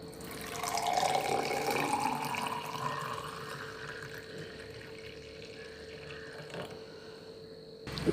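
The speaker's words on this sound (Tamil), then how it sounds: "இப்போ இதை ஒரு டம்ளரில் ஊற்றிக்கலாம்." Ivy gourd juice pours into a tumbler in a steady liquid stream, loudest early on and gradually tapering, with no talking.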